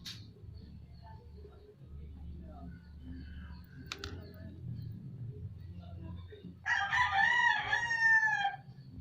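A rooster crows once near the end, loud and drawn out, over a low rumbling background with faint scattered clicks.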